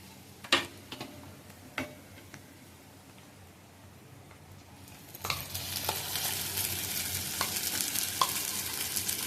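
Ground masala paste of onion, garlic and turmeric is sautéed and stirred in a pan for green-chilli stuffed brinjal, giving a few sharp spoon taps on the pan before a steady, close sizzle sets in for the rest of the clip.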